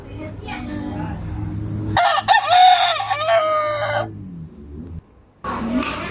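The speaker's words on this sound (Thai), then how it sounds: "รอไก่ขัน ขันดังมาก ๆ เลย" A rooster at a countryside farm gives one loud, close, drawn-out crow in the middle, framed by quieter background farm sounds and faint murmuring.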